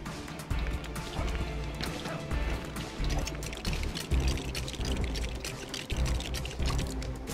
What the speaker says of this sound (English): A water pump.